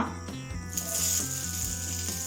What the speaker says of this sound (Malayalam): വെളിച്ചെണ്ണ ചൂടായി അതിലേക്ക് നമുക്ക് സവാള